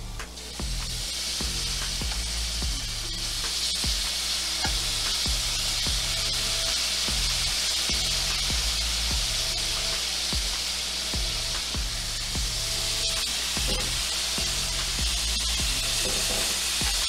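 Shrimp sizzling steadily in a hot pan as a spiced rum glaze is added, a loud continuous hiss and crackle with repeated scraping and stirring taps throughout, no talking.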